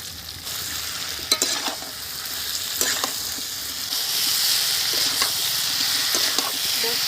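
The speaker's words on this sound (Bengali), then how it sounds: "মশলাটা কষিয়ে নিয়েছি" Ground spice paste fries with chopped tomato in a pan for a vegetarian potato and pumpkin curry, giving a steady close sizzle with occasional spoon scrapes and stirring knocks.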